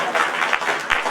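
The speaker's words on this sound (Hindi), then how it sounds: "सरकार जोरदार तालियों से स्वागत करेंगे।" Audience applause at a community student honours ceremony in Jhalrapatan, heard as a short, dense burst of clapping with no voice over it.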